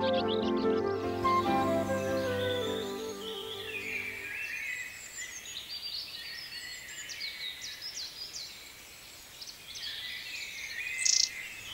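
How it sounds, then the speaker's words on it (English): Birdsong in a stream valley on a spring morning, a bright chorus of chirps and trills carrying on throughout, with a low sustained tone fading out in the first few seconds. "On spring mornings, the stream valley echoes with birdsong."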